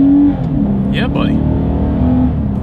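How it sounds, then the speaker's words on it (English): A 2020 Lexus IS 300 F Sport accelerates hard from inside the cabin, with a loud, steady engine roar and rising revs that surge and whine. A voice briefly exclaims over it near the start. "Let's do a quick little acceleration with the car having full control"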